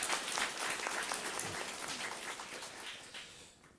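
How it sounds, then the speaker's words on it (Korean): Steady applause from a church congregation at a Sunday service, dense even clapping like patter that fades slowly toward the end, heard from some distance. "정말 수고하신 분들을 위해서 우리 같이 한번 박수를 한번 올려드리겠습니다"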